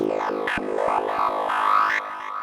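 A bright, buzzy synth lead plays a quick melodic phrase of short, rhythmic notes with rich harmonics, no voices present.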